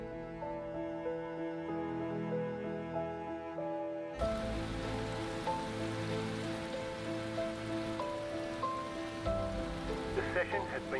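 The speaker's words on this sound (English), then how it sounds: "No sign of this rain stopping." Rain in a GT3 sim racing game at the Belle Isle circuit in Detroit, a dense hiss that starts abruptly partway through, over a sustained tonal engine drone, with no one talking.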